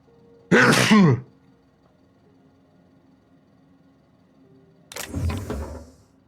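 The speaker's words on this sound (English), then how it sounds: "Gonna sneeze." A single loud, close sneeze bursts out, followed after a few seconds of quiet by a second, softer sneeze-like exhale with a low rumble.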